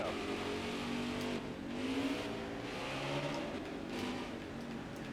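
A NASCAR stock car engine in the NASCAR Heat 4 racing game revs up and down through repeated gear changes on a road course, a continuous mid-volume whine that rises and falls.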